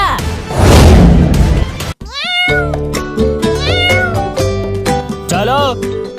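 Kitten meowing in several loud, close, rising calls after a burst of noise and a sharp thud, with cartoon-style music underneath.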